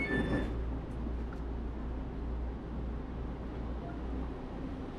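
Low, steady rumble of an EMU3000 passenger train rolling along the rails in Taiwan, heard from inside the carriage, faint and even, with a brief chime at the start.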